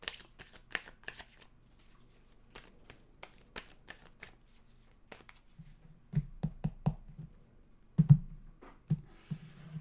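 Tarot cards being shuffled by hand, a run of crisp riffling flutters and taps that grow into thicker, louder shuffles with soft thumps, close up with no talking.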